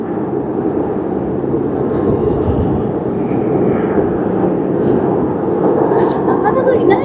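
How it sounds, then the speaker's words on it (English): An airliner begins its taxi roll at Tokyo Haneda Airport in snowy weather, a steady broad engine roar and rumble that holds throughout without fading. "And it has begun its taxi roll."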